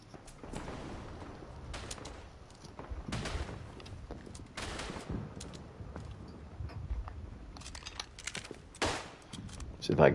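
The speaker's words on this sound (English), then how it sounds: "Love the Lewis gun so far." A Lewis gun fires in a World War One trench combat game, with bursts of automatic fire and distant battlefield shots spread across a busy, muffled soundscape.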